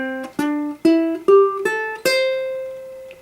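Single ukulele notes climb an A pentatonic scale in first position one at a time, six plucked tones in an even rhythm, the last one left ringing.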